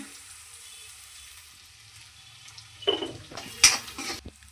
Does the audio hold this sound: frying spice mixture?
yes